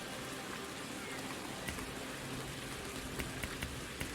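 Rain falls steadily in a VR fishing game, a constant even hiss of drops with a few slightly sharper patters scattered through it, heard alone without voices.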